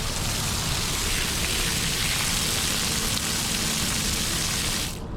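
Water from a garden hose pours onto mulch-glued pea gravel, giving a loud, steady, close spray hiss that runs without a break and then cuts off at the very end.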